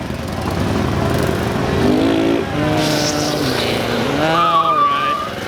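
Mini bikes racing on a concrete course at a Harley-Davidson dealership, their small engines buzzing and whining as they rev and shift up and down in pitch, loud and close, with crowd voices mixed underneath.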